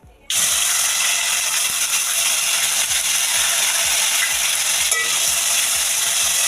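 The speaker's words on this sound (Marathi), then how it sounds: "तर तेल आता छान गरम झालेलं दिसतंय आता ह्याच्यामध्ये सगळ्यात पहिले आपण ही जी टोमॅटोची प्युरी केलेली आहे ही घालून घेऊयात" Tomato puree hits hot oil in a pan and erupts into a sudden loud, hissing sizzle that holds steady and bright, bubbling for several seconds with no talking.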